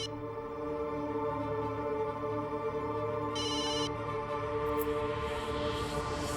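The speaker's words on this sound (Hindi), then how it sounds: "प्रीति का फोन है।" A phone ringtone plays steadily over a dense, continuous background hum, with no one speaking.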